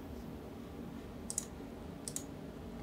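Mouse clicks while selecting parts of a design in Fusion 360 CAD software: a few sharp, light clicks in two quick pairs, close and faint over a steady low background hum.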